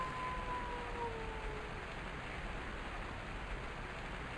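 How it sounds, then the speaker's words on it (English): Heavy rain pours down in the video game Survivalcraft 2, a steady, dense hiss that fills the whole scene with no break, loud and constant throughout. "it's hammering down rain by the sound of it"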